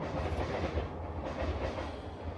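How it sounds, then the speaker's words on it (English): A train rumbles steadily past nearby, a broad continuous roar with faint clickety-clack of rail cars, no voices over it. "And now that bloody train's here again."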